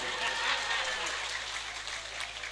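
A congregation at a religious lecture for a haul commemoration in Sumenep breaks into brief, dense clapping, with voices audible alongside it.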